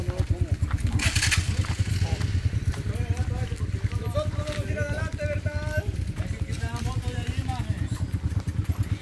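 A motorcycle engine putters along nearby on a rural road among cattle, a rough rhythmic throb running throughout while a person talks and shouts over it.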